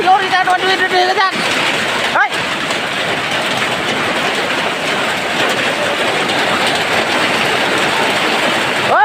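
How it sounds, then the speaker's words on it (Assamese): Loud, steady roar of hail pounding down on an eggplant garden, a dense unbroken clatter throughout, with a voice briefly audible near the start. "আজি ইমান দিনৰ মূৰত বৰষুণ দিছে একেবাৰে শিলগুটি দিছে"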